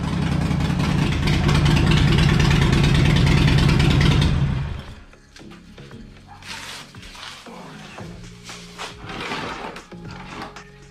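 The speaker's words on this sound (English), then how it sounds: "So I'm gonna start the bike up and just let it run" A Harley Sportster motorcycle engine runs loudly and steadily at idle for about four seconds, then cuts out, leaving quieter clinks and handling noises.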